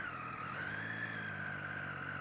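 A 2013 Triumph Street Triple R motorcycle engine with side exhaust revs steadily nearby, a smooth sustained tone rising slightly then settling, with no talking.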